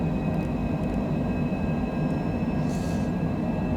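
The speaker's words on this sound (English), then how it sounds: "Beautiful takeoff from Santa Fe, New Mexico." Citation Longitude jet engines in a flight simulator takeoff from Santa Fe, New Mexico, a loud continuous broadband roar with a faint high whine, steady and close, without speech.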